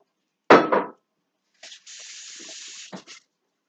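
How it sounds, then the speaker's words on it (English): Water draining off boiled broccoli into a sink, a short splashing pour followed by a steady running flow of about a second and a half, close and alone in a kitchen. "Drain all the water off."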